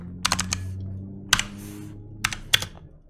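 Someone types on a computer keyboard in short bursts of close, crisp key clicks separated by pauses. No one speaks.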